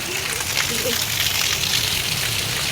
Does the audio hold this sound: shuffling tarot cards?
no